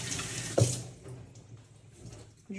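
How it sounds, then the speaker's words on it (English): A kitchen tap runs while a knife and a wooden utensil are rinsed beneath it, a steady close stream of water with a sharp clatter near the start and a brief knock later. "Rinse the knife."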